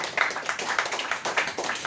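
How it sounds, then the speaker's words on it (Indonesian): A live audience at a night-time talk show gathering claps in a brief, scattered burst of hand claps, fairly close and moderately loud. "Tepuk tangan buat Capcay."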